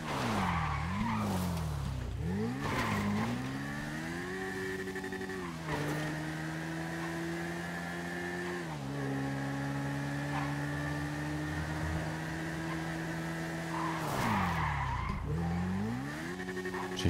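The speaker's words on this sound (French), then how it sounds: "J'ai freiné un peu beaucoup, mais je voulais pas non plus me planter direct." A car in GTA V brakes hard and skids, its engine droning and revving with long sustained tire squeals that rise and fall through the clip, loud and continuous.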